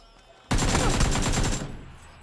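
A loud, close burst of rapid automatic gunfire in a shooter video game played by a trucker streaming on Twitch, lasting about a second before cutting off and fading.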